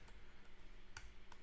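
Computer keyboard typing a sudo bash command, a few faint, sparse key clicks over a low steady hum, quiet and close.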